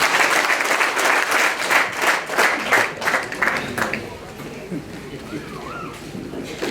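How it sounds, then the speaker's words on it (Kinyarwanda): Rhythmic clapping from an audience at a Rwandan dowry-giving wedding ceremony, loud and close at first, then fading out as voices take over. "namwe mukaba abahanga mu kubimba amashyi"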